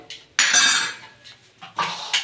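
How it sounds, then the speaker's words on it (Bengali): Lemon-curdled chhana poured through a metal strainer, heard as a loud clatter of pots and utensils with several sharp clinks and scrapes in bursts, close by and with no talking. "এবার আমি ছাঁকনি দিয়ে ছেঁকে নেব।"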